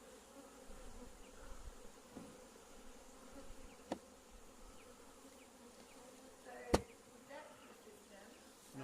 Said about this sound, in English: That's just how we brush the bees onto a frame, the swarm.